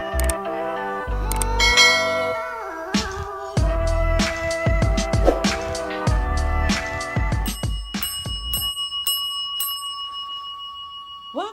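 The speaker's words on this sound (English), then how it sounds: "let me ring my bell on that" A hand bell rung repeatedly in quick bright strikes, clanging loudly and irregularly in bursts with ringing overtones, then thinning into a few sparser, lighter dings and fading decay toward the end.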